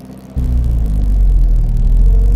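A pre-war Standard Nine car with a fierce clutch starts pulling away, its engine rumbling in a sudden, loud, steady low drone that sets in after a brief quiet moment and holds without talk.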